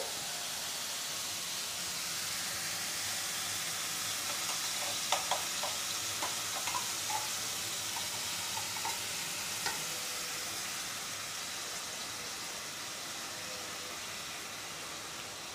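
Mushrooms sizzle in a pan with a special masala paste of garlic, onion, ginger, tomato, salt and coconut, giving a steady quiet frying hiss punctuated by a few light clicks and scrapes of stirring.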